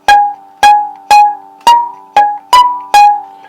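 Seven bowed violin notes in a steady, evenly spaced pattern, each starting sharply and then tailing off, close and clear with no talking. The phrase is the opening three-note figure of a song.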